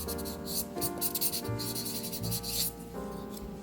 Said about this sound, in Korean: 이후 고운 사포를 사용해 거친 스크래치들을 없애줍니다.